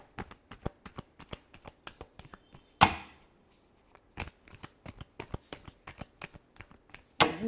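Tarot cards are shuffled by hand in a steady run of crisp, close riffling taps, with one sharper slap partway through and another near the end, and no talking.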